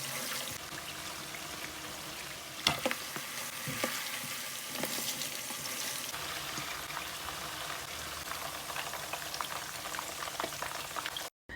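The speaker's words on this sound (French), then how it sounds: "faites-la revenir dans de l'huile 2 à 3 minutes afin d'avoir une coloration bien dorée" A meat mixture browns in hot oil, crackling in a continuous close sizzle with scattered stirring scrapes and a couple of sharp clicks, then cutting off abruptly.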